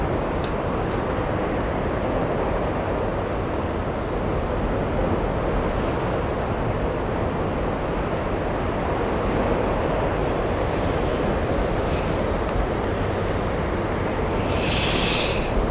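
Strong sea waves breaking at sunset on the shore at Simeiz, Crimea, during a storm, a constant loud roar of surf with wind buffeting the microphone throughout.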